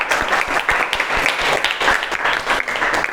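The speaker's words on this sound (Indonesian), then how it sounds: "Kasih aplaus temannya." Classmates clap for a fellow student in a classroom after a group discussion presentation, a dense, steady patter of many hands lasting a few seconds at close range, with faint voices mixed in.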